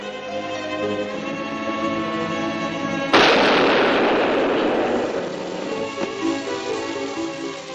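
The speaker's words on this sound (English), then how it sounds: "Using your dynamite on you" A dynamite blast in a western erupts suddenly after a few seconds of tense music, a loud broadband boom whose rumble lingers and decays slowly beneath the continuing score, with no voices.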